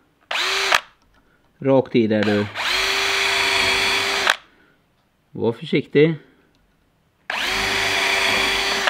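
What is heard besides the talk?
drilling nail holes in metal with a 2 mm drill bit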